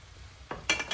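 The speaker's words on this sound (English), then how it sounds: "Give that a stir while I'm waiting for my meatballs to finish cooking" A spoon scrapes and clinks briefly in a pot of paprika meatball sauce, a few quick stirring strokes after a quiet moment, close and moderately loud.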